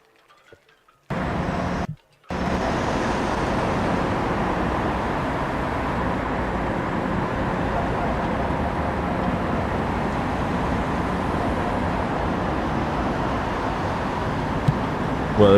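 Steady roar of road traffic at the Port of Southampton with a broad rumble that rises after a brief pause near the start and holds constant, fairly loud and continuous.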